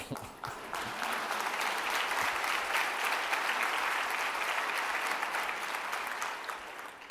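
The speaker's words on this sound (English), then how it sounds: "I'm gonna have to tell Bobby that everybody clap for him." An audience at a talk on neuroinclusion bursts into sustained applause, a dense steady wash of many hands clapping that holds evenly from start to finish with little else beneath it.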